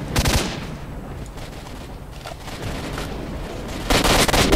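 Gunfire aimed at the player in S.T.A.L.K.E.R. Shadow of Chernobyl, with a few sharp shots at the start, a lull of muffled rumble, then a louder burst of rapid shots at the end.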